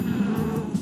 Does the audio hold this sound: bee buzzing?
yes